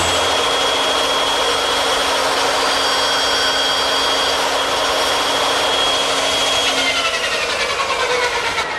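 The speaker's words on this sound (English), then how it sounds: "So I've just cut one of the brackets that goes underneath the shelf beneath the mirror." A power tool whines loudly and steadily while cutting a wooden shelf bracket, a sustained high-pitched drone that starts to waver and wind down near the end.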